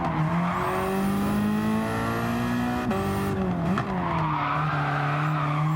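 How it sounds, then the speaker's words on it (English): A Ford Focus touring race car in a racing video game drifts through a high-speed section, its engine droning steadily with shifting pitch and tire squeal as it slides, loud and continuous throughout. "Oh, a bit of a drift, but we keep it on the track"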